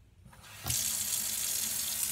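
Tap water gushing into a kitchen sink while a French press is rinsed, starting softer and swelling into a steady, close, full splashing stream that continues to the end, no talking.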